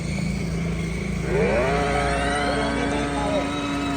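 Motorcycle engine revving up and holding a rising whine nearby on a family outing, a steady close drone with the pitch climbing partway through.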